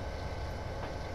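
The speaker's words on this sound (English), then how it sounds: "Another train going by." A mixed freight train rumbles past in a Miami to West Palm Beach train simulator game, a steady, close rolling roar of wagons and wheels filling the short stretch with no talk.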